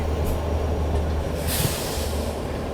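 Amritsar Swarn Shatabdi Express running on rails near Delhi's outer tracks, a steady loud low rumble of wheels and coaches with a brief hiss burst midway, no talking.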